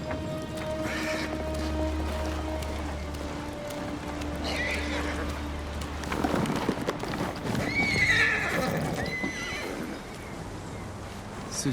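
A horse in the video game Ghost of Tsushima clip-clops close by and lets out several whinnies and snorts, with a low ambient drone and light rain in the background.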